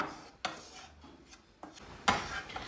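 Tahini halva being stirred in a pan over low heat: quiet scraping and rubbing strokes at an uneven pace, with a few sharper clinks of utensil against the pan.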